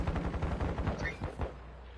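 Rapid bursts of gunfire in a video game, a fast string of sharp cracks for about a second and a half before dropping to a low hum, moderately loud with no talk.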